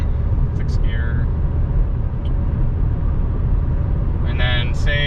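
A 2021 Mazda MX-5 Miata cruising in 6th gear, a steady low engine and road rumble filling the cabin, broken by a few short high beeps and chimes.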